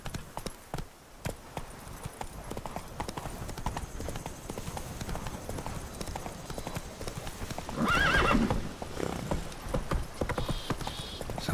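A horse galloping in The Witcher 3, with fast rhythmic hoofbeats throughout and a loud neigh partway through, close and steady.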